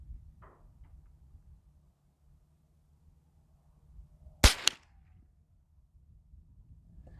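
A single sharp .22 rifle shot with Aguila bulk ammunition, fired during a BSA Sweet 22 scope test, cracks out of near silence and is followed by a brief echo or second report.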